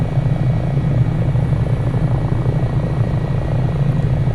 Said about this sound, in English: so you can just hear the gorgeous sounds of this helicopter